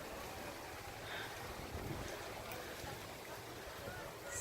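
Steady ocean surf washing onto the beach below an oceanfront balcony at a resort in the Riviera Maya, a continuous broad rush mixed with wind buffeting the microphone.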